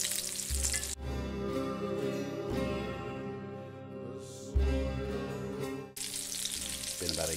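Chicken of the woods (Laetiporus) mushroom nuggets fry in hot grease with a steady close sizzle, broken by a few brief stirring or flipping shifts. No voices.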